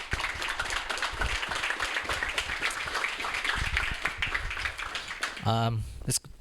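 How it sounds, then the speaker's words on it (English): A meetup audience in Melbourne claps in a brisk round of applause, dense patter fading out near the end, with a brief voice and a sharp tone at the close. "I would like to ask you one more round of applause for everyone that helped to put together this evening for us."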